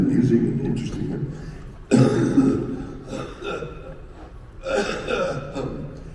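A few coughs and throat-clearing bursts from a nearby person, irregular and separated by short pauses.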